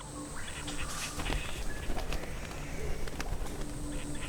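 Three young cassowary chicks call shrilly from inside a nest mound, giving repeated high-pitched peeps over a constant hiss of forest ambience, moderately near.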